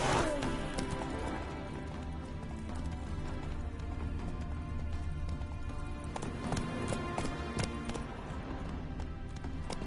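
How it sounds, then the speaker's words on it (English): A horse gallops steadily in the video game Witcher 3, its rapid hoofbeats continuous and loud throughout, with no talk over them. "Whoa there, Roach"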